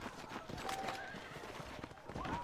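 A horse in the Red Dead Redemption video game whinnies and its hooves clip-clop, with a rising neigh near the start and another toward the end over a steady bed of game ambience and faint voices.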